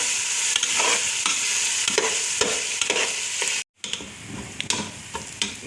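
Onions fry in hot oil with a constant bright sizzle, while a utensil taps the pan in light, irregular ticks; the sound briefly cuts out and then carries on.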